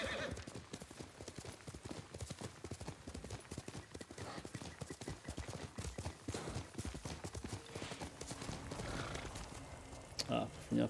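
Horse hooves clip-clop rapidly and steadily in the Ghost of Tsushima video game, with a brief whinny near the end, heard under a faint voice.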